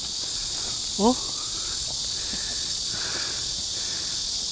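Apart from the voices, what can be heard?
crickets chirping in the woods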